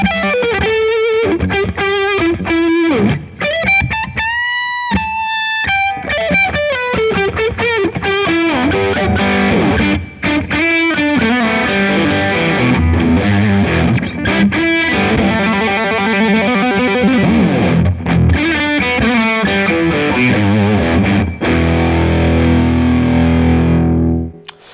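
Lead electric guitar through a Boss Waza Craft BD-2w Blues Driver overdrive pedal, with bent single-note phrases and sustained notes over a gritty, distorted tone, played loud and continuously with no talking.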